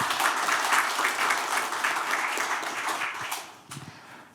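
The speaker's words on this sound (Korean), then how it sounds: "박수를 보내주셨으면 고맙겠습니다." Steady applause from an audience at a book concert event, a dense wash of clapping at moderate volume that tapers off toward the end, with no talk over it.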